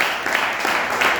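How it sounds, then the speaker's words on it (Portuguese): A church congregation claps hands in a steady, diffuse wash of applause, the rhythm loosely pulsing and filling the room without any voices on top. "podem exaltar o nome do Senhor com as palmas"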